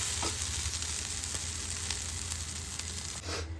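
Chicken roasting in a hot pan, a steady close sizzle and crackle of frying meat running throughout with no talking.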